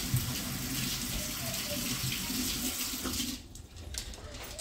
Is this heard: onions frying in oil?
no